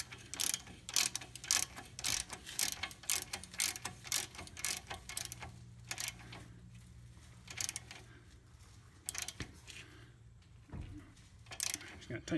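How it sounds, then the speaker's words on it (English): A ratchet tightening an 18 mm nut on a new Moog tie rod end on a Mazda CX-7, with rapid, close clicking strokes in repeated bursts that slow and fade toward the end over a low background hum. "Just gonna tighten it nice and tight here."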